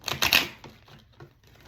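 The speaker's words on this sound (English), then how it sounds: "That shuffle wasn't great." A deck of oracle cards is shuffled by hand, a quick burst of crisp riffling flaps followed by a few softer, scattered card taps as the deck settles.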